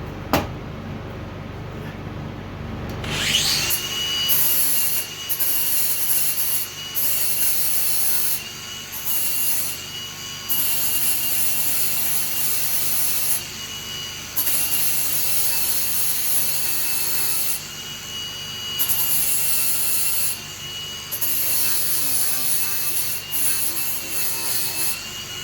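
An angle grinder working over a weld on a Troy-Bilt mower, a sustained high whine with grinding rasp that starts after a brief quiet moment and stays steady with short dips, close by.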